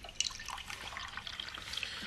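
A hot drink poured into a cup indoors, a short liquid trickle and splash with a few small drips, close and fairly quiet.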